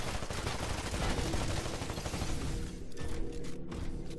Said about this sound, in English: now that I'm on his back, I'm going to start shooting